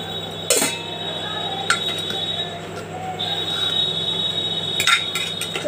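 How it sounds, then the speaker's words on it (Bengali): A pressure cooker lid is fitted and closed in a home kitchen while cooking vegetable khichuri, giving a few sharp metallic clinks spaced over a low steady background hum. "এবার আমি এটাকে জল দিয়ে প্রেসার কুকারটা বন্ধ করে দেব"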